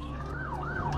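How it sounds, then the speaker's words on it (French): A police emergency vehicle siren wails in rising and falling sweeps while racing to a serious car accident, loud and continuous with no talking. "on fonce avec le gyrophare allumé et toute sirène hurlante"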